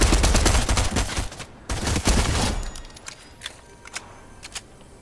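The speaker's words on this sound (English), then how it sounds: "that's not me shooting" Video game gunfire crackles in heavy rapid bursts for the first couple of seconds, then thins into scattered, fainter shots and pops, with no talking.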